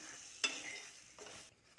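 A brinjal fry is stirred in a pan, two short scraping, sizzling strokes over a faint, quiet frying hiss, close by and with no voices.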